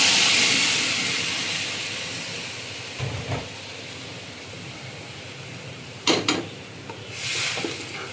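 Gravy water poured into a pan of simmering pabda fish and potatoes with nigella seeds, a steady loud hiss that slowly fades, broken by a few short clatters and a brief burst of sizzle near the end.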